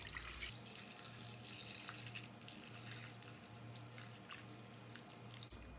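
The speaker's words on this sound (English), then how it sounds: "I'm just gonna go ahead and pour this into the container to sterilize the root system." Fungicide solution is poured steadily into an orchid container being converted to semi-hydroponics, a continuous faint liquid trickle with a low periodic hum beneath it.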